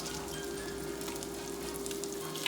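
Wiener Schnitzel frying in a pan, a loud, steady close sizzle of hot fat that runs unbroken, with no one talking.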